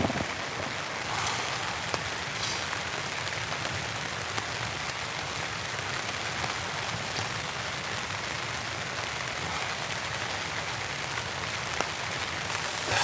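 Steady rain drumming on a tent at a campsite, a dense even patter with occasional heavier drips, continuous and close throughout with no voices.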